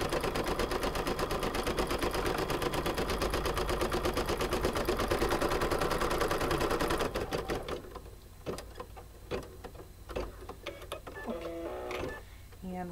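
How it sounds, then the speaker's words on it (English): An embroidery machine stitches the placement line for an appliqué watermelon coaster, a steady, fast mechanical chatter that runs loud and even, then slows into separate thumps and ticks while someone talks over it. "the first thing it's going to stitch is the placement"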